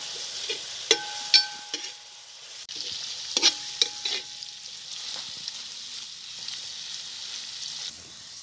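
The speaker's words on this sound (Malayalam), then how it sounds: "ഉപ്പിട്ടൊന്ന് ഇളക്കി കൊടുക്കുക. ഉള്ളി നന്നായി വാടണം." Onions with salt fry in a pan for a Kerala-style chicken curry, a soft steady sizzle broken by several sharp scrapes and clinks of a spoon stirring.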